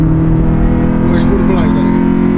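A 1992 Honda Civic 1.6 ESi EG5 is driven at full throttle on a track, its engine droning loud and steady from inside the cabin, with a brief rise in pitch partway through.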